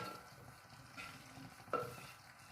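Pasta is stirred into a pink vodka sauce in a pan, a soft, faint wet stirring and gentle sizzle with a couple of light knocks, heard close and without talk.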